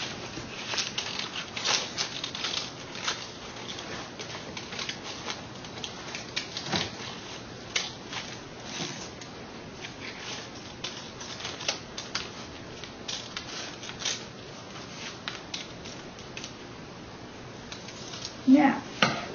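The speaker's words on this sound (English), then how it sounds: "Cut that loop in half." Scissors snip through a paper loop in a long run of small, irregular clicks and cuts, close by, with a faint hum underneath throughout.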